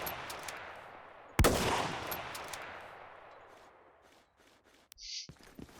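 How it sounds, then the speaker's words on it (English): A single loud sniper rifle shot from the Battlefield 2 AIX mod cracks out, then rings and fades over several seconds, followed by faint clicks of the weapon being handled. "on my sniper rifle it works every time, so there is never reload sound missing"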